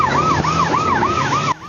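A police car siren wails in a fast, repeating rise-and-fall pattern during a pursuit of a white sedan on a New Taipei street, loud and near, cutting off abruptly near the end with no talk over it.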